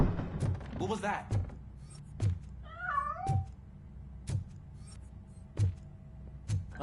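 A cat in the video game Robocop Rogue City lets out a short wavering meow amid regular heavy thudding footsteps and clanks, with a voice talking near the start.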